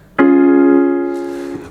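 A single major triad is struck once on piano and left to ring, slowly fading. A faint shuffle follows near the end.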